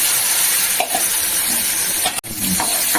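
Small washed pieces of goat fat sizzle and fry in hot oil, a steady close hiss with a few stirring scrapes and a brief clatter from the pan partway through.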